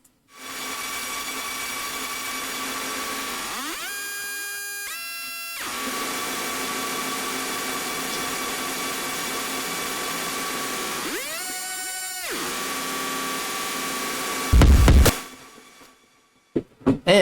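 A pad or bass sound processed with granular grain-size automation, holding a steady buzzing drone broken by two swooping, stepped pitch sweeps, followed by a brief noisy burst and stuttering glitches at the end.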